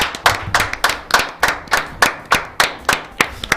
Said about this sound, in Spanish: a quien vamos a recibir con un aplauso